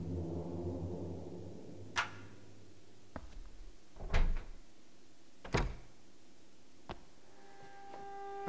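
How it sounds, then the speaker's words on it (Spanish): Forcing a door open in the survival horror game Obscure: a series of separate knocks and thuds on the door, about five spaced-out impacts with one heavier bang in the middle, over a quiet background. "Creo que hay que forzar esta puerta."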